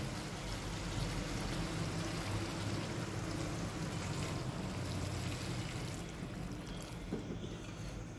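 Warm water runs steadily into a pot of mutton curry, a soft continuous pouring and trickling wash heard close and fairly quiet for several seconds.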